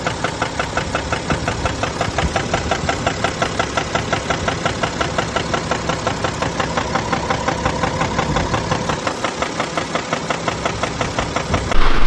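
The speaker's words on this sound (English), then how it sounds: "the issue is a knocking sound inside the engine" A BMW X5 (F15) N57 diesel engine idling with a rapid, regular metallic knocking pulse from inside the engine running steadily throughout, close and loud, with a brief surge at the end.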